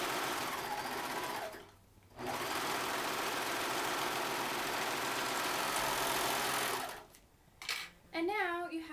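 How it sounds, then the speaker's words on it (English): A sewing machine runs steadily as it stitches a fabric tissue-pouch bag, a loud continuous mechanical whir with a short pause near the start, then stopping as a voice begins to speak at the end. "now sew the other side."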